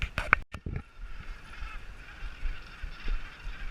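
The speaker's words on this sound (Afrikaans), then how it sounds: "Kyk hierdie klomp voëls." A flock of seabirds gathers on Bird Island at Lamberts Bay, with a loud honking call near the start that gives way to a steady, moderately distant chatter of many birds mixed with wind and surf.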